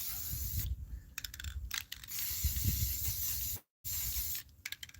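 Rust-Oleum spray paint hissing from a can in a garage repair, several close, loud bursts of broad hiss broken by short pauses and a brief gap.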